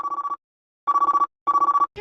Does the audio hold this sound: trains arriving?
no